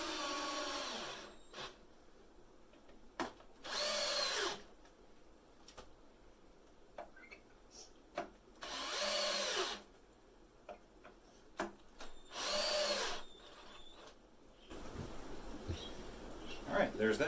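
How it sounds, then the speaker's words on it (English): A power drill drives screws into the corners of a wooden stand for a 10-gallon aquarium, four short whirring bursts spaced a few seconds apart, with clicks and handling knocks between them. "Now I'm just going to attach one screw on each corner so that we can get it level."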